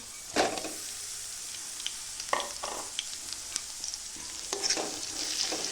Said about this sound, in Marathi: ते पण तेलामध्ये चांगल्यापैकी फ्राय करून घ्यायची आहे।